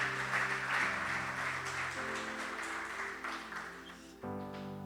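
A church congregation claps in a steady, dense wash of applause, with sustained organ or keyboard chords underneath, and no voices heard.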